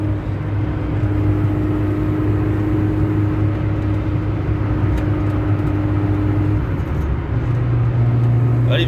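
A Peugeot 206 1.6 16v with a TU5JP4 engine and MA gearbox fitted with a limited-slip differential hums along steadily and loudly, its drone shifting pitch as the gears change, with no talk over it.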